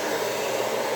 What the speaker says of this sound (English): I'm putting the hair dryer on my brush and going down